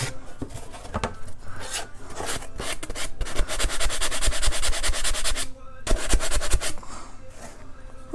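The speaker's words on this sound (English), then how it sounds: "we can come in here and sand this and make it a little smoother" A Dollar Tree craft piece being sanded smooth by hand, with repeated close, scratchy back-and-forth strokes that intensify, pause briefly, then resume.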